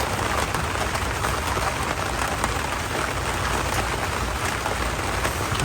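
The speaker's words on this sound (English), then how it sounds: "I apologize about all the noise because I got a tarp that's covering this truck. It's pouring right now." Heavy rain pours onto a tarp stretched over a truck, a loud, dense, unbroken hiss and patter close by with no pauses.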